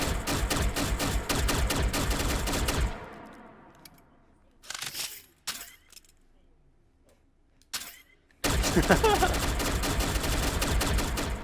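Gunfire in the VR shooter H3VR: dense bursts of rapid automatic fire, then a pause with a few short isolated shots, then another loud sustained burst, close and harsh.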